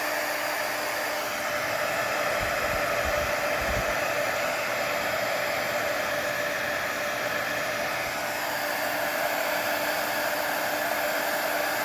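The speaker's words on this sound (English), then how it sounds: "let's heat set this quick and I'll show you" An embossing heat tool blows hot air to set embossing powder on paper, a loud, steady whooshing roar that runs unbroken for about twelve seconds with no voices.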